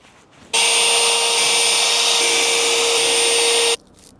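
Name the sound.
drilling holes to mount swing hardware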